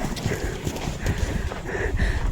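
Horses walk along a Bromo trail, their hooves clip-clopping in a steady, uneven rhythm close by, with faint outdoor background noise.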